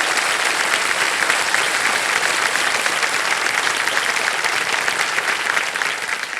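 An audience claps steadily and loudly throughout on the KBC quiz show set, a dense, even wash of applause with no pauses and no clear voices on top.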